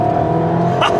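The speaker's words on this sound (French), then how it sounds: "ça couine le pneu là, c'est ça qu'on veut." A Fiat Punto Abarth Evo engine drones steadily under acceleration, with a brief higher tyre squeal near the end of the short stretch.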